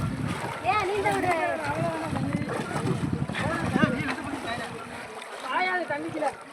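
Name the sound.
bull swimming and splashing in water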